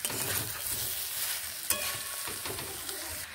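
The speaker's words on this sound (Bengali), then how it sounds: "আলু সজনে ডাঁটাগুলোকে দিয়ে ভালোভাবে এইভাবে মিশিয়ে নেড়ে নিচ্ছি।" Fried potato chunks and drumstick pieces are stirred in a hot pan for a fish curry, a steady sizzle with scraping spatula strokes and a sharp clink near the middle, close and continuous with no talk.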